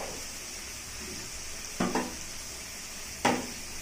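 Eggplant curry stirred and fried in a pan over lowered flame, a steady soft sizzle with a few sharp scraping strokes of the spoon against the pan, close and alone.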